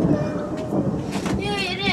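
Thunder rumbles through a storm in the Saltkråkan archipelago, a broad, loud roar that fills the whole moment, with a voice starting to speak near the end.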